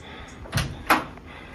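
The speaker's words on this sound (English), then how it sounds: "Open the door." A door opens near the basement of a house: two quick knocks or clunks about a third of a second apart, close and moderately loud against a quiet background.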